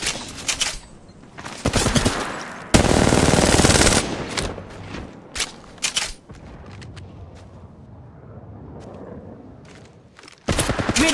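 Automatic gunfire in the video game Apex Legends, loud rapid bursts of machine-gun fire in several spurts separated by quieter gaps, with a final burst at the end.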